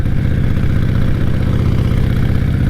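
A motorbike engine on the move, loud and continuous, with a low throbbing rumble and a rapid, even firing pulse very close up.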